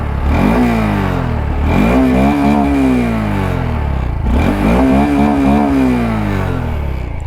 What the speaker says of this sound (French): Allez, je vous fais écouter le son de la ligne.